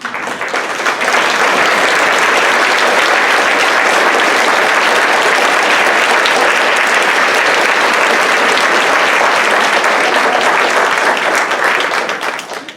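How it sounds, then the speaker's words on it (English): A large audience at a university gala gives loud, sustained applause for Black staff and faculty. The dense clapping holds steady for over ten seconds before fading slightly at the end. "Please give a loud round of applause for our Black staff and faculty."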